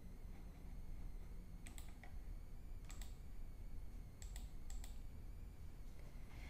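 Keystrokes on a computer keyboard enter an accession number, a few sparse clicks in small clusters heard faintly over a steady room hum.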